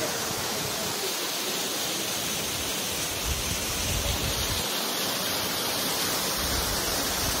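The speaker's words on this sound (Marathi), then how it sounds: "सुंदर असा धबधबा" Steady roar of a waterfall seen while climbing steps on a trek in heavy monsoon rain, a dense continuous rush of falling water filling the whole clip with no voices.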